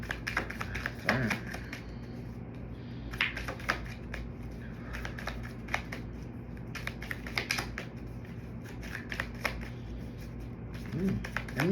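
Tarot cards shuffled by hand in a spiritual reading, giving a steady patter of soft riffling and flicking close up, with faint low background hum and a few sharper taps.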